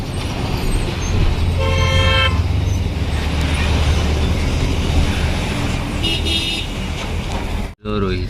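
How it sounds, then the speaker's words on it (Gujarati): Car horns sound in Ahmedabad city traffic: two clear honks, one early and one later, rise over a steady rumble of road noise that runs through the whole stretch. "બસ તો જોઈ લો મિત્રો અમદાવાદનું ટ્રાફિક"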